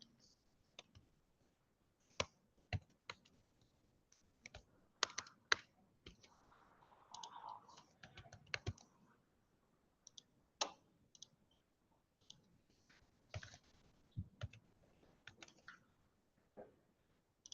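Scattered, quiet key clicks on a computer keyboard as an email address is typed, coming in short irregular bursts with pauses between.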